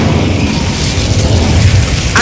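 Incendio fire spell cast in Hogwarts Legacy: a loud, sustained whooshing burst of flame with deep rumbling low end, ending in a sharp crackle.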